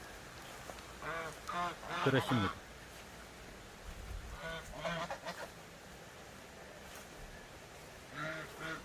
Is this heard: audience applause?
no